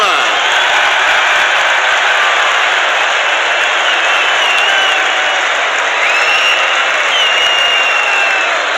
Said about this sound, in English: The biggest cheer of the day when your name was called up there